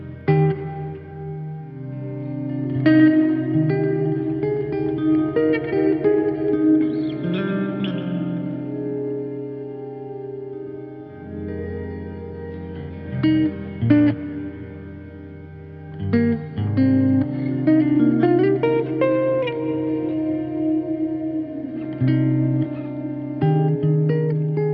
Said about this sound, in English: let's switch back to another reverb